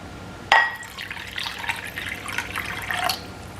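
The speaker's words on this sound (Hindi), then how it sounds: "तो मैं इसमें थोड़ा सा और पानी डालूंगी।" About a cup of water is poured into a bowl of tamarind while making iftar chaat. It opens with a sharp splash, then a close, burbling pour and liquid sloshing for around three seconds, with no talking.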